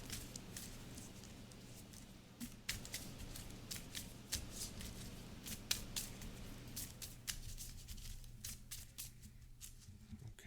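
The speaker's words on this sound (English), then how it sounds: "So I'll shuffle this back in." Deck of game cards being shuffled in a Marvel Champions card game session, producing repeated soft riffling and snapping bursts over a steady low background hum, moderately close and not loud.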